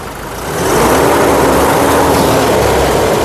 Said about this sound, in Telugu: ఇంజన్ యొక్క నాయిస్ కూడా సైలెంట్గా అయితే ఉంది